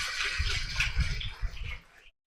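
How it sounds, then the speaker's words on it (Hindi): Audience applause at a Hindi poetry recital, a dense crackle of many hands clapping that runs steadily for about two seconds and then stops abruptly. "तालियां एक बार पुनः आगे से पीछे तक"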